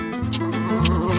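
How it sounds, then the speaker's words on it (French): Bees buzz around frozen honey jelly as a steady, droning hum with low stepped tones shifting beneath it, loud and close throughout the brief moment. "les abeilles"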